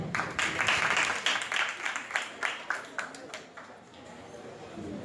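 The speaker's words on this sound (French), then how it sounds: "Applaudissez-la, s'il vous plaît." Applause from an audience at a school literary event, a lively patter of hands that swells, thins out toward the end and drops into quiet room tone.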